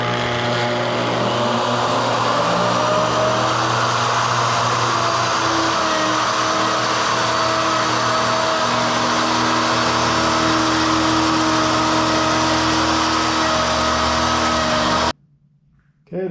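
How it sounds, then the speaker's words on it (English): A wood router trims the laminated edges of a camper dinette table top, a steady loud high-pitched motor whine running continuously before cutting off abruptly near the end. "the router did a pretty good job of trimming down the edges"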